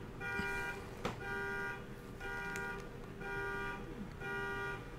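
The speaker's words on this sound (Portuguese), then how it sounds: "Alarme do carro lá fora." A car alarm outside cycles through repeated electronic tones in regular bursts about a second apart, faint and distant behind an indoor room.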